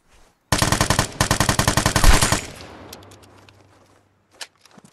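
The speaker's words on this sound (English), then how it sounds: "Someone was shooting to the right, and someone is there" Rapid automatic gunfire in the video game Vigor, two loud bursts of evenly spaced shots close by, then a decaying echo and a couple of faint distant pops.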